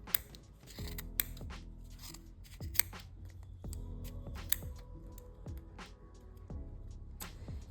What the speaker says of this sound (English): take your scissors and cut down this groove that is in between the colored sections